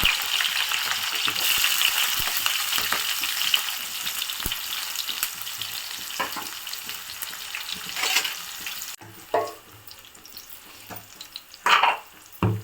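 Green chillies and onions frying in hot oil with cumin and mustard seeds, a steady loud sizzle with stirring scrapes, the crackle easing and breaking into bursts near the end.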